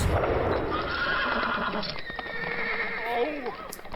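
Horses whinny and neigh loudly in The Walking Dead episode "The Tower" while hooves clop nearby, with a sharp bang and some voices mixed into the commotion.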